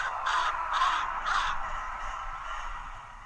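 Three harsh crow caws in a quick evenly spaced series as a flock of about six black birds takes flight from trees overhead, fairly close, over a steady low ambient hiss.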